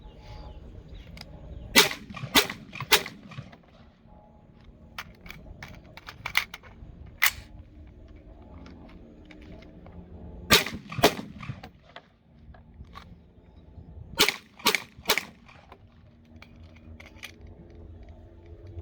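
Gunfire at an outdoor shooting range while the shooter rolls over between positions, placing rounds: sharp, loud reports come in pairs and tight clusters with quieter clicks and handling noise between them, and there is no talk.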